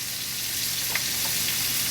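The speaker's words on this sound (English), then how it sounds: "So let this cook and simmer for about" Lobster Américaine simmering in a pan, a steady soft sizzle and bubbling hiss that stays even throughout, with a faint stir in the middle and no voices.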